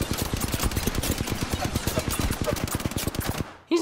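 Rapid automatic gunfire in the Apex Legends video game, a dense sustained burst of many close, loud shots for over three seconds, ending abruptly in near silence.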